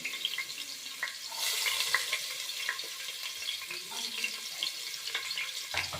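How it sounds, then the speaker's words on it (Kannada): Finely chopped onion fries in hot oil for a mutton sambar, giving a steady close sizzle with scattered crackles and a brief louder burst early on; no one speaks. "ಇವಾಗ ಎಣ್ಣೆ ಕಾದಾಗ ಸಣ್ಣದಾಗಿ ಇಟ್ಕೊಂಡಿಟ್ಟಿದ್ದೀನಲ್ಲ ಈರುಳ್ಳಿ, ಅದನ್ನು ಹಾಕೋತಾ ಇದ್ದೀನಿ."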